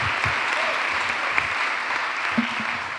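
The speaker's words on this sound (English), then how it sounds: "Applause for everybody here" Convention hall audience applauding, a dense, steady wash of many hands clapping at full strength for the whole stretch, with a brief voice low underneath near the end.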